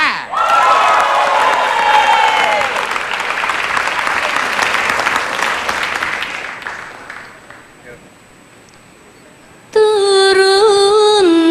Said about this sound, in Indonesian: Sekarang kita beri tepuk tangan yang meriah untuk sintren